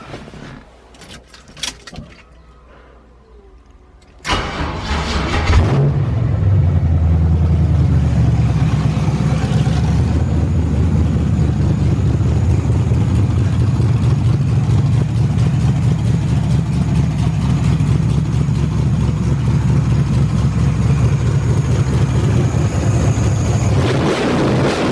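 Turbocharged LS V8 in a Firebird drag car cranks and catches after about four seconds, then settles into a loud, steady, rumbling idle that runs on without a break.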